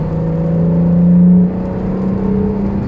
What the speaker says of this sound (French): Ils font un son sympa, hein, le V8, V6, pardon